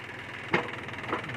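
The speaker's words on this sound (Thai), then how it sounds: "ติดง่ายนะครับ เครื่องยนต์เป็นเครื่องสามสูบนะครับ รุ่น 5045D นะครับ" A three-cylinder 5045D tractor engine idles with a low, even rumble, close by and fairly quiet, with a brief clack partway through.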